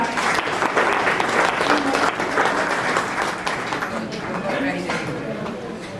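A felicitation audience claps loudly and steadily, dense applause that thins slightly toward the end, with voices mixed in.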